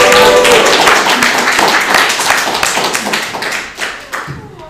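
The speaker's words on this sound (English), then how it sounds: "So big applause to Silvia" An audience at a Latvian Chamber event applauds for Silvia. The clapping starts loud and dense, then thins out and fades into scattered, separate claps near the end.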